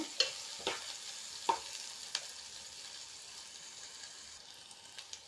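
Shallots and green chillies sautéing in a pan for egg kuzhambu, a soft steady sizzle with a few sharp clacks of stirring, moderately close, no talking.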